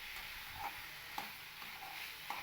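Boiled chickpeas and fried potatoes with spices are stirred in a pan over low heat, a faint, soft sizzle broken by a few light scraping strokes of a spoon at irregular intervals.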